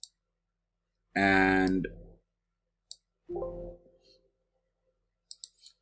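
Sharp, isolated mouse clicks while working in an Excel spreadsheet, a single click then a quick double click at the end, with a voice speaking in between.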